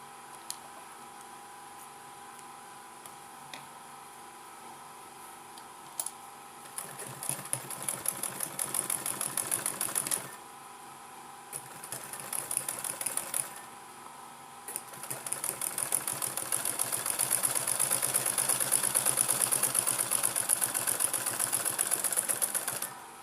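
Sewing machine stitching a corset bust cup, bursts of rapid rhythmic clatter that start, pause and restart, growing steadier and louder toward the end, close and alone.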